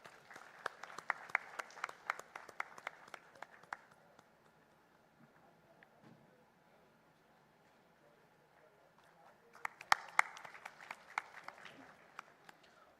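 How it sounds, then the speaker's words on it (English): Audience applause at a formal national ceremony hall, two bursts of clapping separated by a quieter lull, moderately distant and fairly faint, with faint speech in the background. "Let's have a big round of applause"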